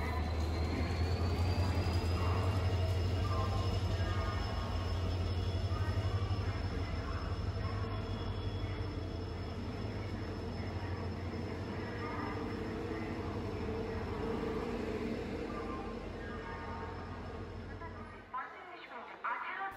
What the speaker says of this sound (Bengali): তাম্রলিপ্ত এক্সপ্রেস ঢুকছে হাওড়া রেলওয়ে স্টেশন।